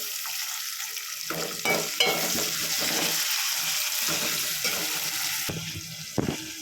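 Onions fry in a pan with fresh curry leaves for a country chicken curry, a steady close sizzle broken by repeated scraping stirs and a few clinks of the spoon, with no talking.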